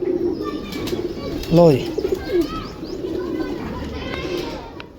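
Cooing from one of forty fancy breed pigeons kept in a loft setup, a few soft rolling coos rising briefly near the start under steady talk, with faint chirps around them.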